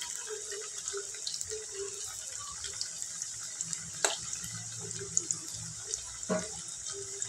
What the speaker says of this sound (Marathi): असे व्यवस्थित तळून घ्यायचे आहेत